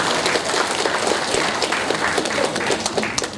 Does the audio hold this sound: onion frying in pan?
no